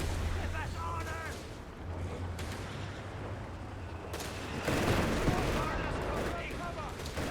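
Battle noise from Company of Heroes 3 with a .30 cal machine gun, heard as dense overlapping gunfire bursts and booms, steady and loud, continuing throughout under other combat sounds.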